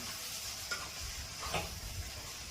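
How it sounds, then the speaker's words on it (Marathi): Poha being stirred in a pan over a low gas flame, with a soft steady sizzle broken by a few scraping strokes of the spoon. The sound is quiet and close, with no talking. "पोह्यांना गॅस कमी करायचे, गॅस कमीवरतीच फिरवायचं आहे त्याला."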